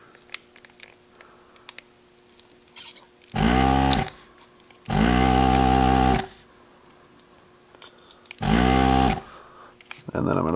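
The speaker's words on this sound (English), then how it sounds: "So we'll get that melted, suck the solder off." A desoldering tool on a Ford Super Duty integrated brake controller circuit board with conformal coating, giving three loud, steady whooshing bursts of about one to two seconds each, separated by quiet pauses, plus the start of a fourth at the end.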